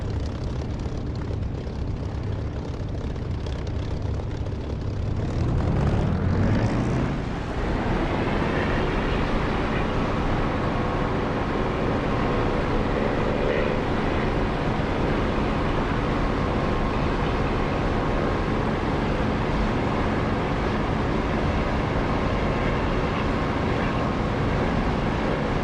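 In the DCS flight simulator, an aircraft takes off from a runway with a constant loud engine roar throughout and a rising swell in pitch and power partway through.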